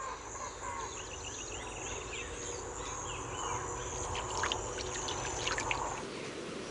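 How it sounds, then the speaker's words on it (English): A gray-necked woodrail bathes in a pond late in the afternoon, giving faint scattered splashes and trickles of water against a soft background of insects and distant birds. "A gray-necked woodrail takes a spectacular shower late in the afternoon."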